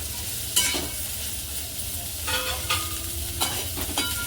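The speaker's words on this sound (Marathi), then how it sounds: "तेंडली छान ह्या मसाल्यामध्ये मिक्स करून घ्यायची तडक्यामध्ये" Ivy gourd pieces stirred into a hot spice tempering with turmeric in a pan, giving a steady sizzle with a few scraping strokes of the spoon, close and clear with no talking.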